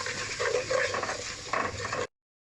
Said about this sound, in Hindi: अब हम इसमें डालेंगे टमाटर का पेस्ट और इसको अच्छे से मिक्स कर लेंगे।